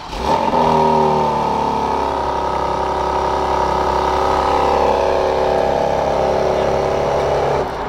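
A 2024 BMW X3 M Competition SUV engine turns over by remote start and settles into a steady, close idle with a low rumble and a faint whir, running evenly to the end.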